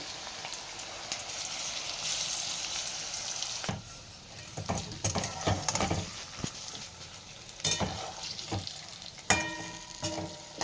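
Onion pakoras in gram flour batter sizzle in hot oil, a soft steady crackle for the first few seconds followed by irregular bursts of spattering and scraping as pieces are moved, close but fairly quiet.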